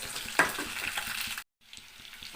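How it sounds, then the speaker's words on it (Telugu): Ginger pieces hiss and crackle as they fry in hot oil in a pan already holding green and dried chillies: a close, steady sizzle with a brief cut to silence before it resumes. "ఇప్పుడు అల్లం ముక్కలు వేసుకుందాం."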